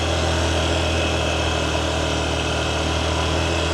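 A Honda XR150L motorcycle engine held in first gear at two-thirds throttle on a rural province road, giving a steady, loud, continuous drone with no break or change in pitch.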